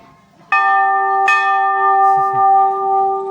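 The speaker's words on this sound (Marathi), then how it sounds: "हे किती मोठी घंटा आहे रे." A large temple bell is struck twice in quick succession, its deep metallic tone ringing out loud and sustained as it slowly fades.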